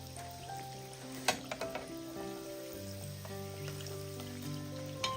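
Snacks fry in hot oil over a low flame, a soft bubbling sizzle with a few clattering knocks early on and faint background hum, heard alone without talk.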